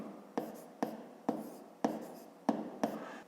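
Pen or chalk writing during a math lesson, six separate short scratching strokes spaced roughly half a second apart, heard close and clear with no talking over them.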